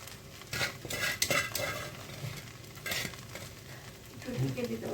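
Poha being stirred and mixed in a pan, irregular scraping and clinking strokes of a spoon against metal over a soft sizzle, close and fairly quiet.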